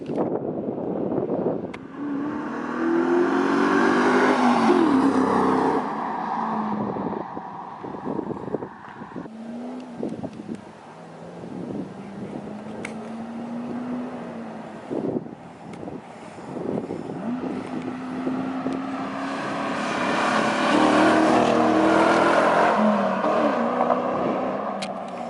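A car with a new exhaust revs and drives down a street in Mexico. The engine note rises and falls through throttle blips, with wind buffeting and road rumble heard close to the microphone.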